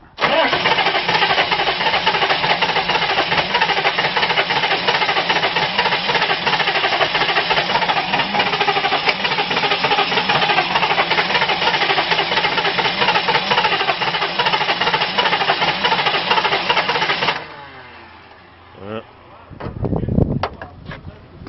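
A motor cranking on carburetor cleaner sprayed into the intake, loud and continuous for about seventeen seconds before cutting off, followed by a few scattered clanks and knocks.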